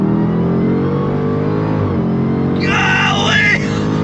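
A 2022 Dodge Challenger Super Stock with an 8-speed automatic accelerates at full throttle. The engine drones loud and steady, dips briefly at a shift, then a voice whoops excitedly over the roar near the end.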